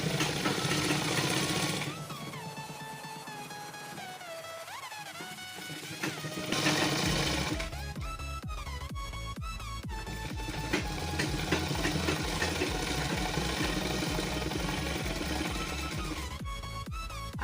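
Sewing machine stitching a canvas bottom strip onto a salwar hem, running in rapid rhythmic bursts of mechanical chatter that stop and restart, with a loud hum between runs and no speech.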